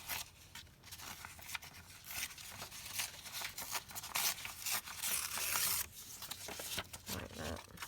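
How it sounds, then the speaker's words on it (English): Paper from a 12 x 12 sheet being torn by hand, a continuous crinkly ripping and rustling that runs through most of the stretch, close and fairly loud, with brief pauses. "So let me just tear this round."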